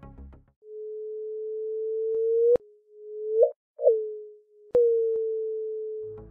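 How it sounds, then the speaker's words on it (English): A sonification of gravitational waves from colliding black holes sounds as a steady pure tone, cut by sharp clicks and short rising and falling sweeps, with brief silent gaps, fairly faint and alone. "The sound is ripples in space and time, called gravitational waves."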